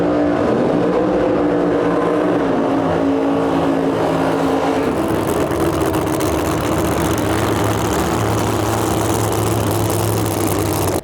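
A screw-blown 2020 Camaro drag race car at Lights Out 16 qualifying runs loud and close, its heavy engine roar holding steady, then dropping to a lower, rougher rumble about halfway through.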